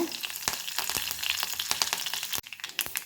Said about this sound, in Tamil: எண்ணெய் காஞ்சதும் கொஞ்சமாக கடுகு போட்டுக்கிறேன் கருவேப்பிலை